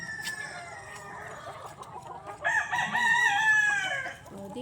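On a small farm holding hundreds of chickens, a rooster lets out a loud, close crow over a background of steady clucking from the flock, with no talk.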